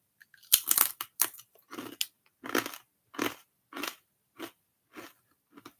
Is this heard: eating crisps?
yes